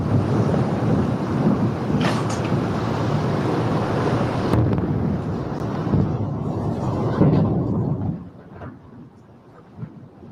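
Explosions from missile interceptions over Jerusalem, Israel, heard through a CNN broadcast as a continuous heavy rumbling roar with distant booms, fading to quieter background after several seconds.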